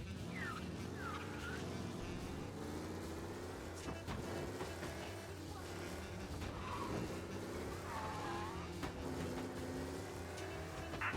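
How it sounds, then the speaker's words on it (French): A car driven in the video game Mafia: a steady engine drone with shifting revs and brief tire squeals, loud and continuous, with faint background sounds of play. "on va ramener la caisse. Regardez comment je conduis bien"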